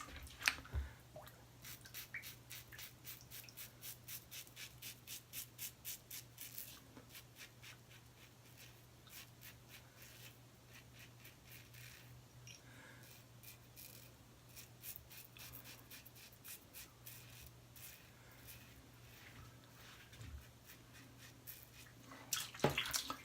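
A Rod George razor blade shaves through a lather of Black Ship grooming soap, giving faint, close, rhythmic scraping strokes in a steady series of short passes, quieter in the middle stretch and louder again near the end, with no talking.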